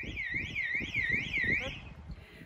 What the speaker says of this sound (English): Many motorhomers will choose to have an alarm installed, mostly for peace of mind, as it provides an audible alert should the motorhome be broken into or moved